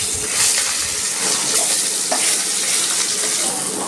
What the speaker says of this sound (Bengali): আমার তেল গরম হয়ে গেছে, আমি মাছ দিয়ে দিচ্ছি।